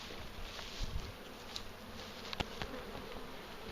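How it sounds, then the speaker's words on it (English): Honey bees at an open beehive, during bottom supering for broodnest expansion, hum in a dense, continuous, fairly faint buzz, with a few brief louder clicks and knocks from hive handling. "These bees can be quite feisty"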